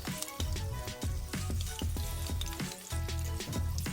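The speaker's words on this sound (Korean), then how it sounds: "네, 지글지글 튀겨지는 소리가 아주 좋습니다." Steady crackling sizzle of mackerel frying in hot oil, continuous and close, with faint clinks and pops scattered through.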